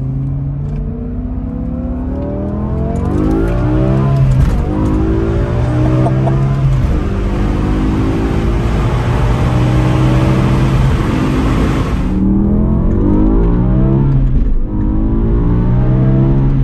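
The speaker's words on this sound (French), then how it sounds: "let's go pour la première petite accélère en M5-60" BMW M5 E60 accelerating hard, its engine revving loudly and climbing in pitch through a long sustained pull, heard close and dominant throughout.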